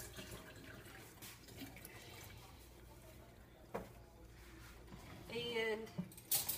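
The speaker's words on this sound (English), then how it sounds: "Rinse my hands." Tap water runs briefly in a kitchen while hands are rinsed during cooking with a cast iron pan, a faint splashing hiss that swells louder near the end.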